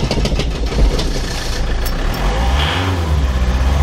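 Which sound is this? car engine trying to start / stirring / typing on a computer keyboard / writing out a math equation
car engine trying to start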